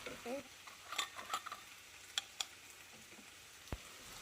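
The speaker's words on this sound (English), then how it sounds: "I'm going to continue to saute everything, combine well, and just make sure that the sausage is cooked through and sauteed" Chopped smoked turkey sausage sautés in a pan, with a soft quiet sizzle under scattered clicks and scrapes of a utensil stirring, a few sharp taps standing out; no talk.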